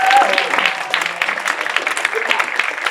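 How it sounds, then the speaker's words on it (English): A school audience applauds visiting staff after a Romeo and Juliet workshop, with steady crowded clapping throughout and some voices audible underneath. "A big round of applause for Marymount and St."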